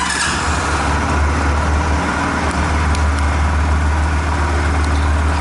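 A Next motorcycle engine idles close by, a loud, steady, low rumbling drone with no voices over it.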